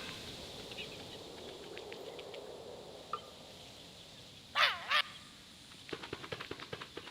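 Parrot squawking in Don't Starve Shipwrecked: two sharp, close squawks back to back in the middle, with faint chirps before and a quick run of clicky calls near the end, over a quiet ambient bed.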